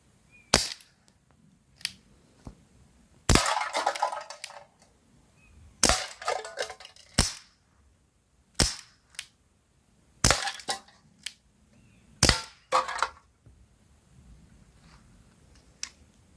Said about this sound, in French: Quand le coup part, vraiment une bonne carabine à air comprimé